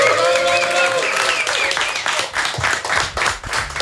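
A hip-hop radio show audience applauds and cheers for three legendary New York rappers, with steady dense clapping and shouts filling the whole stretch, loud and close.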